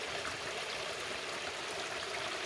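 A small stream flowing across rural property after rain, a soft, steady trickling and rushing of water, distant and faint, continuous with no voices.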